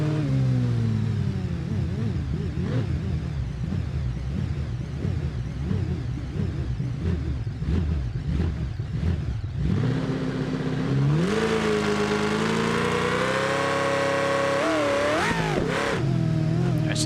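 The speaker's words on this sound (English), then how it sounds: "that was full throttle launch there" Car launched at full throttle in the BeamNG driving game, engine rising from rough low rumble into a loud, climbing rev that holds high and wavers as it pulls.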